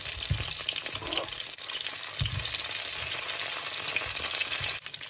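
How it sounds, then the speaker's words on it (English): Steady sizzling of green plantains frying in a pot, with a few soft stirring knocks; no talking. "So they're steaming down and frying nicely."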